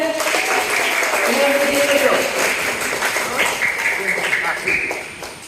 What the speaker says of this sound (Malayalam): നല്ലൊരു ക്ലാപ്പ് കൊടുത്തേ